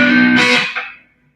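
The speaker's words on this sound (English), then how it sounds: "That's fuzz." An electric guitar fuzz tone through a Valco Blood Buzz pedal: a single loud, buzzy, distorted strum that rings briefly and then decays to silence.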